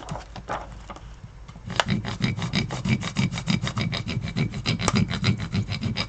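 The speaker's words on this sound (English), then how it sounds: "I like to use the flat part of a crayon. The tip sometimes goes into the texture and you don't get quite as good of a rubbing." Crayon rubbed flat across a bottle with a textured circle pattern, a quiet scrape at first and then a fast, regular rasping back-and-forth that grows louder and stays close.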